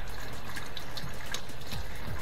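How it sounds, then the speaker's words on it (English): Water sloshes and trickles inside a dishwasher during a cleanup, a soft continuous liquid churn with a few small gurgles and drips, fairly close and steady. "The water's shaking around more in there, so something's loosening up."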